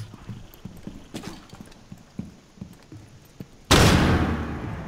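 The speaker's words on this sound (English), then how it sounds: "That was a flashbang." A flashbang grenade goes off in Rainbow Six Siege, a sudden loud blast with a hissing, ringing wash that follows a stretch of soft footsteps and small thuds.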